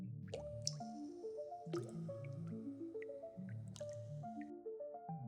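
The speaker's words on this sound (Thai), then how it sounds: "ก็มีเสียงอีกอย่างหนึ่งดังขึ้น คือเสียงน้ำหยดครับ" Water drops falling one after another in an uneven rhythm, each landing with a ringing, pitched plop, close and clear with nothing else heard.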